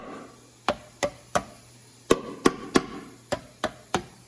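A hammer taps the rusted metal cab corner of a 2003 Ford F-250 pickup in a series of about ten sharp, close knocks in irregular groups, some ringing and some dull, over a faint steady hum.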